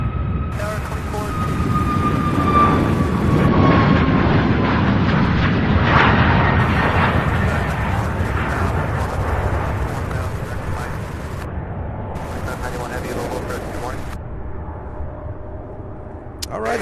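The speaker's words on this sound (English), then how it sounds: "That was Southwest in a brand new 737 MAX 8 taking off for Denver." A Southwest Boeing 737 MAX 8 jet takes off, its engines roaring loud and broad before slowly fading as it climbs away, with people talking faintly over the noise.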